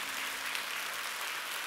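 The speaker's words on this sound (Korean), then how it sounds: "우리에게 그런 놀라운 은혜를 주신 하나님께 영광과 감사의 박수를 한번 올려드리겠습니다" A church congregation applauding together during a worship service, a brief, steady wash of clapping from many hands, moderately loud and without talk.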